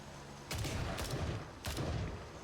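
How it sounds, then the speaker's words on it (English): Gunfire from the video game Gray Zone Warfare: sharp distant shots in two or three quick bursts, fairly faint against a steady background rumble. "You heard all the gunfire."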